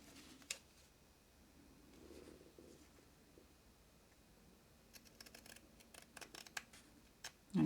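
Scissors trim cross stitch fabric for a coaster, with faint, sparse snips early on and a quicker cluster of soft crisp cuts near the end, close by and quiet.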